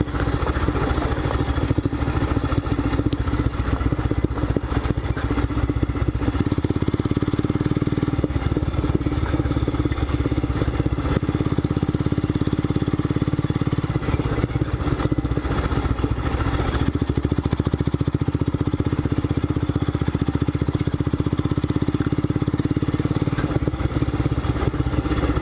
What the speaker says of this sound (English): I'm relying on engine braking most of the time.